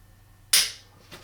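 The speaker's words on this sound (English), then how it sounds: "Very clean break on this Glock 30 SF." A single sharp, dry click of a Glock 30 SF trigger breaking during dry fire, close and crisp against near silence, followed by a faint softer click.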